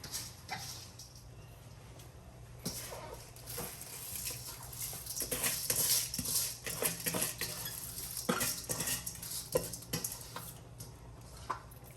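A fork scrapes and clinks against a metal pot while stirring rice and water for pumpkin rice with coconut milk, with irregular close taps and scrapes over a low steady hum and no talking.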